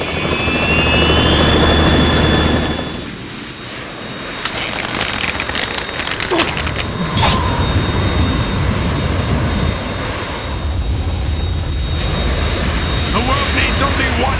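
Harrier jet engine from Metal Gear Solid 2 roaring loudly and steadily throughout, with a deep whine and rumble that briefly dips before surging back, mixed with game sound effects and a character speaking over it.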